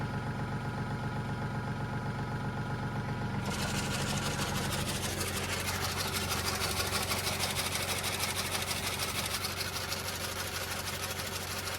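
Riding lawn mower engine running steadily, its rapid rattling drone growing brighter and busier after the PTO blades engage partway through, loud and continuous with no talk.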